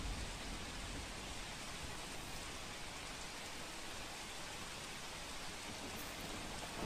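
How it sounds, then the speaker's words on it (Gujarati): Heavy monsoon downpour over Bhavnagar city in Gujarat, a dense, steady roar of rain beating on surfaces, loud and continuous throughout with no voices. "ભાવનગર શહેરમાં ધોધમાર વરસાદ છે."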